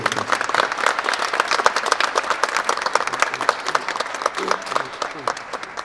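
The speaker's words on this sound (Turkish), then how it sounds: "Bir de alkış istiyorum." An audience claps loudly and steadily at a plaque presentation ceremony, dense rapid hand claps forming a continuous, slightly uneven roar throughout.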